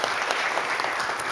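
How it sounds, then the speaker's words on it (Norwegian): Steady, dense applause fills a hall as an audience at an energy-policy seminar thanks a speaker, an even wash of many hands clapping at moderate loudness. "Applaus til deg."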